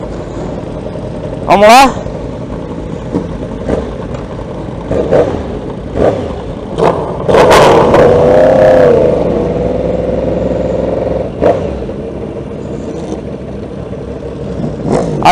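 Motorcycles of a riding group idle and rev nearby, engine bursts rising and falling over a rumbling background, with people talking briefly in between.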